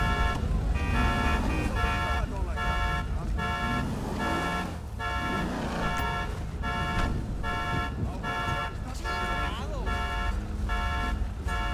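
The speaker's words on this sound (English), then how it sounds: "Is it this car the alarm's going off?" A car alarm in GTA 5 blares continuously with a rapid, pulsing electronic whoop, loud and near, while voices speak over it.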